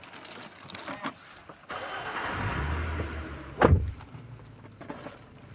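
Nissan Patrol SUV engine cranking and firing up, a short starter whir followed by a sharp catch and a rumbling idle that settles and keeps running, heard fairly close.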